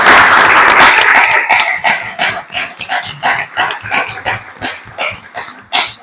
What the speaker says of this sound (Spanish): yo en este momento pido un aplauso para él